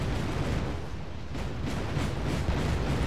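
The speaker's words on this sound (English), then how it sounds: "Oh, they're shooting at my mirage." Anti-aircraft gunfire aimed at a Mirage jet in Wargame: AirLand Battle rumbles as a dense, continuous roar of booming shots and blasts, loud and steady throughout.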